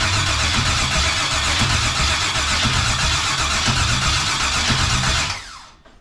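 A 1979 Pontiac Firebird V8 fires up and runs loud and rough with a rhythmic drumming pulse close by, then cuts out and dies away near the end.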